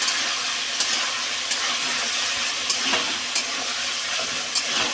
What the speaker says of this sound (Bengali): সর্ষে, জিরে, কাঁচা লঙ্কা, শুকনো লঙ্কা দিয়ে দিলাম। ভালো করে নেড়ে নেব।